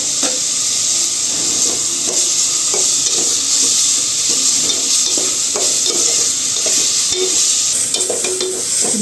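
Papaya pieces fry in ghee over medium heat with cinnamon, cardamom and bay leaf, a steady close sizzle and hiss broken by repeated stirring scrapes throughout.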